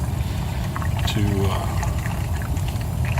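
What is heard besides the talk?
water pouring into a travel trailer's fresh water tank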